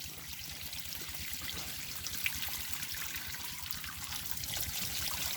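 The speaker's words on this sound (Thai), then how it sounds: "เดี๋ยวผมจะเทน้ำออกนะครับจะเห็นน้ำดำๆนะครับ" Water trickles and pours out of an old battery in a steady, close stream, a continuous liquid gurgle that grows slightly fuller toward the end, with no talking.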